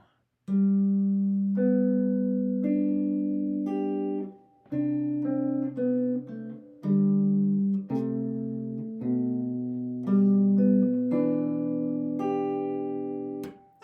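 A single guitar plays a slow melody of sustained notes and chords, phrase by phrase with short gaps between them, close and clear.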